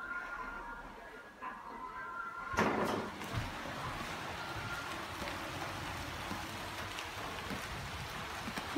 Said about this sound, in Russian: Дождик пошел сильный.